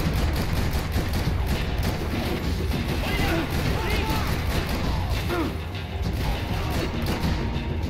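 Chaotic gunfire and crashing mayhem in the video game Max Payne 3, including shotguns, a dense, continuous wall of battle noise with overlapping shots and impacts throughout.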